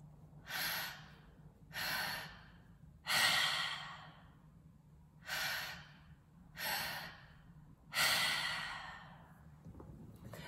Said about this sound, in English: we're gonna be breathing in this pattern for about 5 minutes